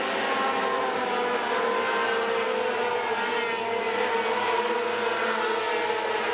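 Formula 500 race cars lap Rockhampton Speedway, a steady continuous engine drone from a pack of cars running at speed, held at an even distance without any voices.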